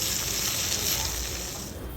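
Eggplant (brinjal) fries in a pan on a stove with a loud, continuous close-up sizzle and crackle that eases slightly at the end.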